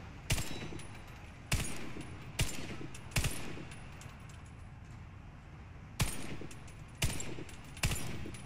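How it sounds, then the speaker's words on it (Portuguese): Four widely spaced sharp shots from an M249 Para machine gun in the online shooter Warface ring out over a low game ambience, each crisp and close, with a pause before the last three. "Quatro tiros e lá no fundão."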